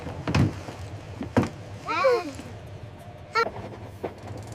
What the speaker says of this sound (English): This train is moving fast.